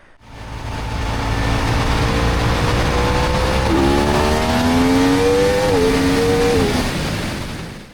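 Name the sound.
Yamaha R1 motorcycle accelerating during wheelie control test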